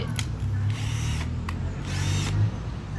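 A cordless power drill whirs in two short bursts, revving up and stopping, close by, with a low motor hum and a couple of clicks between.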